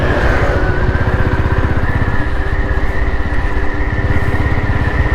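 A Royal Enfield Electra 5-speed self-start motorcycle engine runs steadily close by, a loud, even, rapid thumping idle that holds with no pause.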